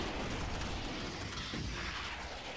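Troopers blast away at bugs in the Starship Troopers: Terran Command strategy game, a dense, continuous roar of massed gunfire with no break, close and loud across the whole stretch.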